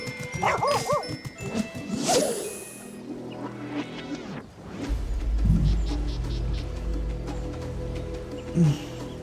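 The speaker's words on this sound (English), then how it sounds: "Dog." A dog barks a few times near the start, over a busy indoor mix of game sounds, chimes and a low hum, with no clear talk.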